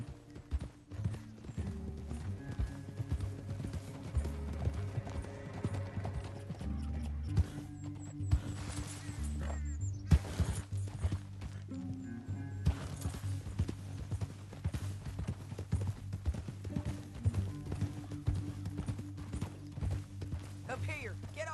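Horse hooves clip-clop steadily at a trot in Red Dead Redemption 2 on PS4, moderately close and continuous under background game music and occasional voices.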